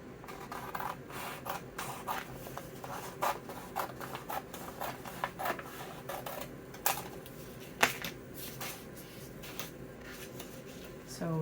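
A Cricut cutting machine slices a vinyl decal, giving a steady run of small clicks, ticks and scraping taps from the moving carriage, close up and fairly quiet, with a few sharper knocks.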